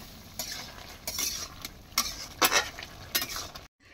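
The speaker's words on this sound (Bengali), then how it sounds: "এই গরম তেলের মধ্যে এই যে জিরে দিয়ে দিলাম।" Cumin seeds dropped into hot oil for a Bengali hilsa fish curry, crackling and sizzling in short bursts with a spoon scraping the pan, close and fairly quiet.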